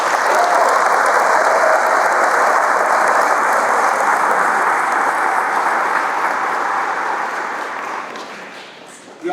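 A school crowd claps loudly and continuously for the staff at a fifth-grade promotion ceremony, the dense applause holding steady for several seconds before tapering off near the end.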